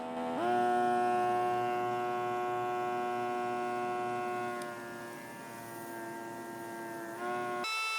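A Chef Preserve compact vacuum sealer's pump runs steadily for several seconds, a loud, even electric motor hum with a slight dip in level near the end before it cuts off abruptly.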